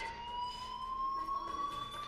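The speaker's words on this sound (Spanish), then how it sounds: "Ahora corremos porque está la alarma de incendios." A fire alarm in the video game Life is Strange: a steady electronic tone that holds one pitch and rises slightly, ringing quietly and alone for its short length.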